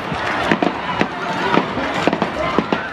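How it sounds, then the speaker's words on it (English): Sharp pops and cracks of fireworks mixed with gunshots burst irregularly over a dense crowd roar, several in quick succession. "The fireworks in the sky competing with gunfire on the ground."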